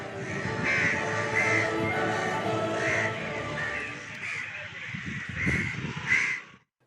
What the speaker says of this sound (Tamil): நாய்களும் காக்கைகளும் பாசத்துடன் அவரை தேடி வருகின்றன